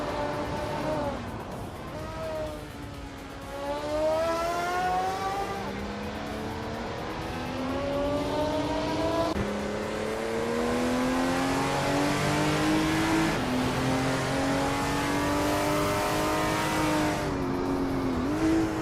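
Race car engines in a racing video game rise and fall in pitch as they shift through gears, several cars droning together at moderate volume under a continuous commentary voice.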